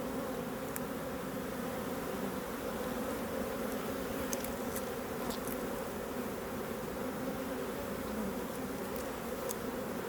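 Honey bees buzz around an open hive during a frame inspection, a dense, steady drone lasting throughout, close and continuous with no voices.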